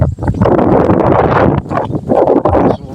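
Strong wind gusts buffet the microphone while a plastic kite is flown outdoors, a loud, continuous broadband rumble that swells and briefly dips, with no talk.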